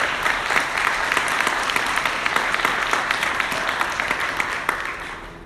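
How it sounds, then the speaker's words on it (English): An audience at an equity workshop in Newark, New Jersey applauds a panel: a steady, fairly loud round of many hands clapping that thins out toward the end. "How about a round of applause for the whole panel?"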